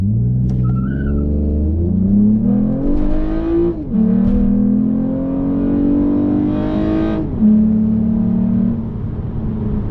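A tuned Toyota Camry accelerates hard through the gears, a loud in-cabin engine drone rising in pitch, dropping at each shift, then climbing again before easing off, with no talking.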